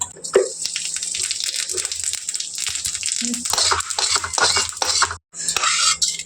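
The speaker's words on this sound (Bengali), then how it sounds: "কড়াইটা গরম হয়ে গেছে, আর এখানে অল্প একটু তেল দিয়ে জিরেটা ভেজে নেব।" Cumin seeds fry in a little oil in a hot wok, giving a bright crackling hiss mixed with metal spatula scrapes and clinks, loud and close throughout, with a short pause near the end.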